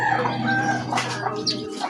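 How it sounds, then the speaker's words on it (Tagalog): Chickens on a household yard cluck and a rooster crows nearby, several overlapping calls rising and falling across the moment with steady background noise. "Ito guys, ang mga manok."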